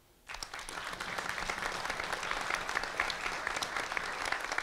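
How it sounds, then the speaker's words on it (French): An audience at a municipal council meeting in France breaks into sustained applause, dense and even clapping from a room of people, starting abruptly and continuing steadily to the end. "messieurs Christophe Rougemont, sur vos applaudissements."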